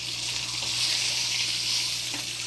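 A steak sears in a hot pan with a steady, bright sizzle that holds close and even throughout, with no voices over it.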